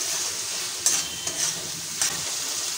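Minced chicken stir-fried in a pan as it is cooked down for chicken patties, a steady close sizzle broken by a few scraping stirs of the spatula.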